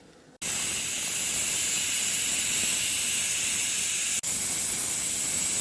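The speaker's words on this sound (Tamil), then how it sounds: "ரெண்டு விசில் வந்துச்சு. நான் அடுப்பு ஆஃப் பண்ணி விட்டுறேன். இப்போ வந்து கேஸ் வந்து ரிலீஸ் ஆகிடுச்சு." A pressure cooker on a home stove, cooking aloo mutton curry, releases steam in a loud, steady hiss that starts abruptly and runs throughout, with a brief cut near the end before resuming.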